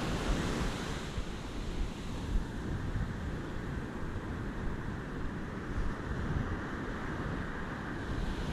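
Ocean waves surge and crash onto a sandy shore near a wreck and sea caves as the tide comes in, a steady roaring wash with wind buffeting the microphone throughout and no voices.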